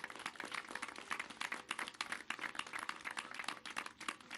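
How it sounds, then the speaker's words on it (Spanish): Faint, dense clapping from a crowd greeting a president at an outdoor community gathering of the Ódami people in Chihuahua, a steady patter of many hands heard from a distance, with no voices. "esta tierra Ódami la recibe con un muy fuerte aplauso"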